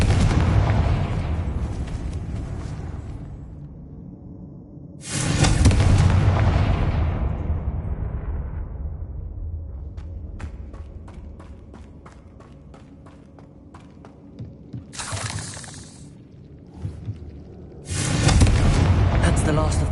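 Confringo fire curse blasts in Hogwarts Legacy land as heavy booming explosions, one around the middle and two more near the end, each with a long rumbling decay and scattered crackling debris between them.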